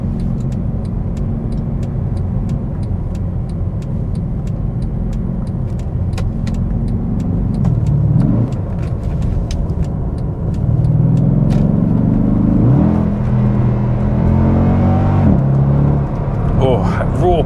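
A 6.2-litre W204 Mercedes C63 AMG engine hums steadily from inside the cabin, then rises in pitch as it accelerates around a roundabout, with a voice talking over it.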